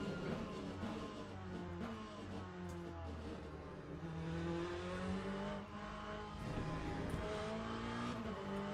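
A race car lapping in a racing video game, its engine droning and shifting pitch as it accelerates and brakes through corners, steady and continuous with faint tire noise.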